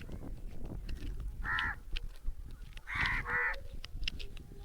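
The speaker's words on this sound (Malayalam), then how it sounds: "മരത്തെ നിറച്ച് കാക്കയാണല്ലോ ഉണ്ണി" Crows in a tree crowded with them caw outdoors near an old bridge at Ceylon Kavala in Kerala: three harsh, moderately distant calls, the last two close together, over soft background ambience.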